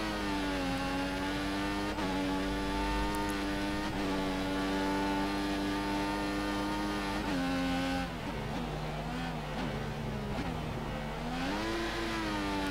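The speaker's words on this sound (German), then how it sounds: "Wir fahren jetzt mal eine schnelle Runde." A 2014 Formula 1 race car in a video game on a fast lap at Bahrain, its engine a loud, continuous high-pitched whine rising and falling through gear changes and corners.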